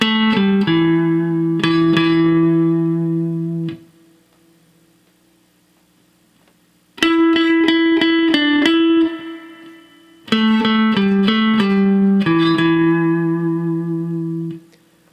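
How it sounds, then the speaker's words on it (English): An electric guitar plays a verse melody in 7th position, two phrases of picked, bending notes separated by a quiet pause, close and clear with no talking. "The first verse melody starts on beat 4 with a pickup and sounds like"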